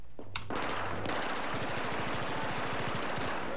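Sustained machine-gun fire in the video game Battlefield 4, a fast even rattle of close shots after a brief lead-in of louder single reports, with no talking over it.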